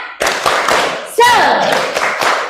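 A classroom of students performs a rhythmic spirit clap, sharp claps in quick patterned bursts mixed with voices chanting along, loud and close in the room.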